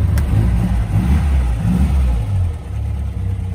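Engine of a 1949 MG YT Tourer vintage car, loud and close, surging through a couple of rev swells and dips before settling into a rough low running note, with no talking.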